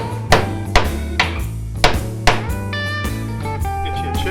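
A lump hammer drives a punch against the steel frame of a 1960–66 Chevy C10 during a bolt-in notch install: five sharp metallic strikes at an uneven pace, each ringing briefly, over a steady low hum.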